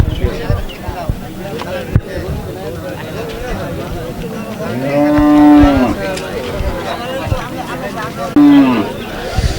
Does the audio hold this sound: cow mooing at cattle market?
yes